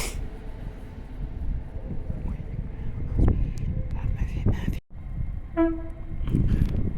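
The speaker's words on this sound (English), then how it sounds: "800, 103 pulling into York." A Class 800 train pulls into York station with a low rumbling rail roar and the clatter of wheels, then a brief two-tone horn toot near the end, while people talk nearby.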